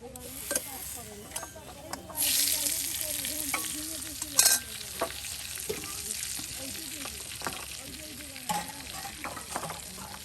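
Eggs frying in a pan by a riverbank, a steady sizzle broken by scraping stirs and a couple of sharp metallic clinks of the utensil against the pan, close up with no talk.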